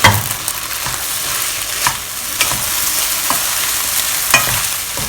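Cooked rice and eggs are stirred in a hot frying pan, a strong steady sizzle broken by regular scrapes and knocks of a utensil against the pan, close and loud with no voices.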